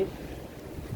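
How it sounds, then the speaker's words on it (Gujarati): Strong storm wind in Jamnagar buffets the area as a low, rumbling roar with gusty swells, close and fairly faint, with no voices. "ફૂલ પવન"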